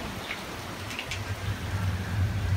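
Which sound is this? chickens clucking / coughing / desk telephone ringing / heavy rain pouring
heavy rain pouring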